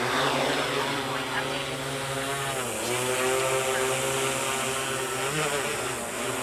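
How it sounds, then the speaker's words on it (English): A drone lifts off outdoors and flies, its propellers giving a loud, steady buzzing drone with shifting pitch, continuous and close throughout. "So we're going to get the drone up now."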